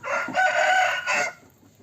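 Yard chickens, a yellow Sasu hen among Gurk Indian birds, give one drawn-out, strained call in two close segments, loud and near, with no talking.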